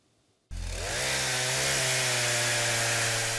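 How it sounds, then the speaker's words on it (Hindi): A chainsaw cuts tree branches in a forest near Ulaanbaatar. It bursts on abruptly after a quiet moment, then runs loud and close as a steady, high-revving buzzing whine with no voices. "लकड़ी काटने वाली मशीन की तीखी आवाज के साथ शुरुआत टहनियों से"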